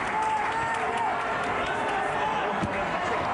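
Crowd at the Santiago Bernabéu stadium in Madrid cheering James Rodríguez at his presentation as a new Real Madrid player, a steady distant roar of cheering throughout.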